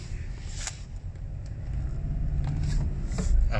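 Low, uneven rumble of a car engine idling roughly and shuddering after the check engine light came on, heard close inside the car, with faint clicks over the throb as it grows slightly louder toward the end.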